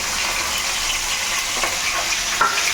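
A whole fish, rubbed with a little salt, turmeric and lemon juice, frying in hot oil, giving a steady loud sizzle and crackle throughout with a few brief spits.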